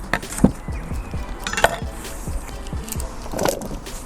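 A few knife chops through a cucumber against a cutting board, spaced irregularly, with light kitchen clatter and faint background hum.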